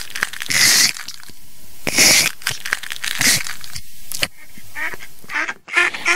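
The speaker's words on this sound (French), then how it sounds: "Enfin, les œufs craquèrent les uns après les autres." Duck eggs crack open one after another as ducklings hatch, loud crunching, crackling bursts with quacking, repeated in close, uneven clusters with no talk.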